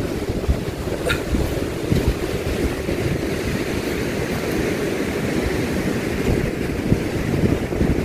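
Ocean waves wash against a beach shore in a steady, broad roar, with wind buffeting the microphone and no talk.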